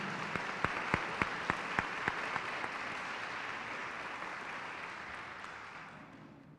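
An audience at a county spelling bee applauds, with a few sharp distinct claps at the start blending into steady clapping that slowly fades out toward the end.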